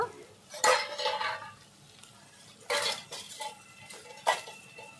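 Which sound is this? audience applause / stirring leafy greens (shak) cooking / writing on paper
stirring leafy greens (shak) cooking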